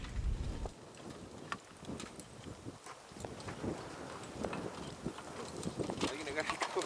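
Horse hooves clop irregularly on the ground during an outdoor film scene in which a rider falls from the horse. The footfalls are fairly faint against wind noise, with speech around them.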